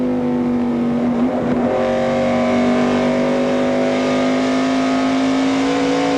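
A 2000 NASCAR race car's engine roars loudly and steadily, with a brief dip in pitch as the driver lifts off the throttle exiting a corner before the drone resumes.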